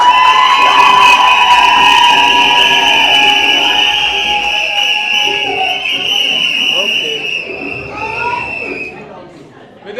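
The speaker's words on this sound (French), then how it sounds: "on applaudit pour nous-mêmes" Crowd cheering and shouting at a civil wedding ceremony in a town hall in Yaoundé, a loud continuous wash of excited voices and high ululation-like tones that gradually fades over about ten seconds, with no distinct clapping.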